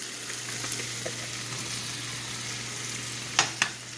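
Shrimp sizzling in tomato sauce in a pan, a soft steady hiss with a few sharper clinks and pops near the end.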